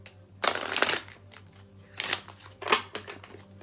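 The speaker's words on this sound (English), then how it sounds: "Let's get one last shuffle here in these cards" Tarot cards are shuffled in three quick riffling bursts, close and crisp, separated by brief pauses with a low hum beneath.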